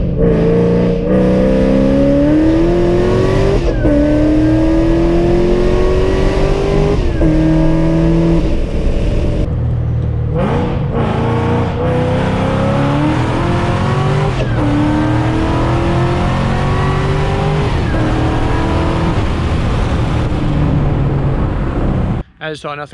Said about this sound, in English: just kind of doing some 2, 3, and 4 shifts